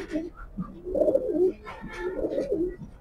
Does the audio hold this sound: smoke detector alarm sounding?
no